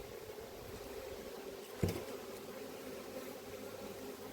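A steady, low drone of many honey bees buzzing close by at an apiary hive while supers are handled, with one brief thump partway through.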